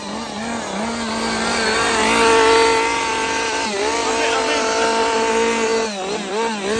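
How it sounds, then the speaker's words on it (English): A chainsaw revs inside a haunted maze at a scare attraction, its harsh engine drone rising and wavering steadily throughout, close and loud, with a faint voice or two mixed into the din. "There's a dude with a chainsaw."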